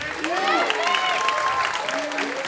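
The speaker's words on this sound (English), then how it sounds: "give them all a round of applause together" Applause for senior musicians at a school spring music concert, steady clapping with voices talking and calling out over it throughout.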